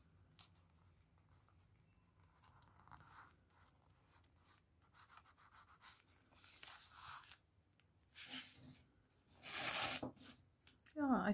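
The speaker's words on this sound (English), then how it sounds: "I'm just going to count the papers now." Sheets of paper are counted by hand while assembling a collage concertina book, producing soft, intermittent rustles and flicks that grow into louder shuffling bursts toward the end in a quiet room.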